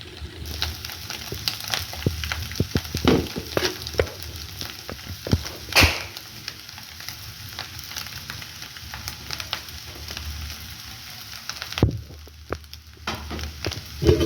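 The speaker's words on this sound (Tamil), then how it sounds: "சேர்த்துட்டு நல்ல வடிவாக நாங்கள் புரட்டி விடுவோம்." Steamed puttu is stir-fried with egg and prawn in a pan, giving a close, moderate sizzle broken by repeated scraping and tossing clatters, one sharp clatter standing out.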